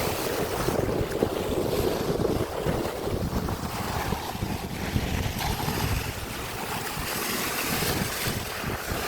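Wind buffets the microphone at the seashore while waves wash in steadily, a loud continuous roar with surf rising and falling throughout and no voices.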